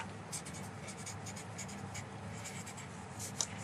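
Pen or marker writing English vocabulary words on a board or paper, with scratchy strokes running steadily and close throughout, no talk.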